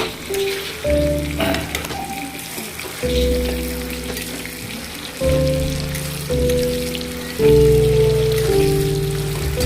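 Sliced onion rings frying in a pan, a steady, fairly loud sizzle that carries on throughout, with background music playing underneath.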